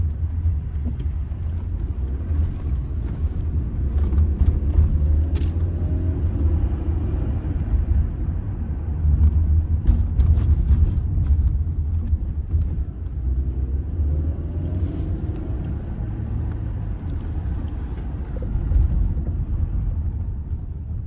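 A 2005 Mercedes E200 Kompressor Avantgarde coupe drives through town, giving a steady, continuous low engine and road rumble from inside the cabin, with mild swells in loudness and no voices.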